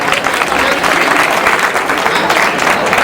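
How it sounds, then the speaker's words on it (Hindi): Audience at an event applauding loudly, a dense, continuous wash of clapping close by that holds at an even level throughout the short stretch. "उनके लिए मैं चाहता हूँ आप जोरदार तालियां बजाएं।"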